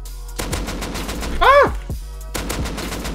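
Gunfire in the video game Rust: a few quick bursts of shots with a brief sweeping effect in the middle, fairly faint against a steady game background.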